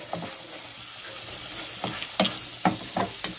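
Onions stir-fried in a pan over a soft sizzle, with several sharp scraping stirs of a utensil against the pan near the end.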